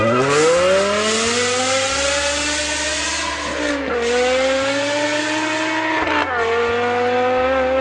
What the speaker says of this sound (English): It's a good sound. That's definitely a Honda Civic.